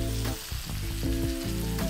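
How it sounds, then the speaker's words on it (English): Smallmouth bass fillets in a very thin batter fry in hot oil, a steady close sizzle and crackle with small bursts of popping throughout. "When you're frying these fish, it shouldn't take more than a couple minutes."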